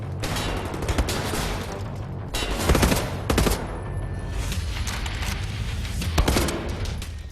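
Gunfire in Wolfenstein: The New Order, with rapid bursts of automatic shots in several clusters over steady background combat noise, loud and close.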